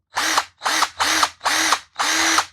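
Bauer 20V cordless compact 3/8-inch impact wrench fires in five short, even bursts, each about a third of a second with brief gaps, a loud close buzzing hammer rattle with no voices.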